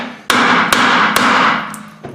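A hammer strikes the rear wheel bearing hub of a Kia Sportage several times in an uneven rhythm, each blow a sharp, loud, close metallic crack with a short ring, heard alone without talk.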